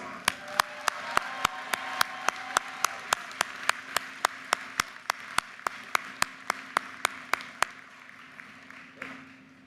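Slow, evenly spaced claps ring out for about eight seconds from a university commencement crowd in a large reverberant venue, then stop, leaving a steady low hum.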